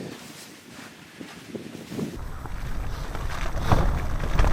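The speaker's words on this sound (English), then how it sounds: "that wind's blowing" Strong wind buffets the microphone outdoors along a desert road toward Afton Canyon, rumbling gusts that grow louder and heavier over a few seconds.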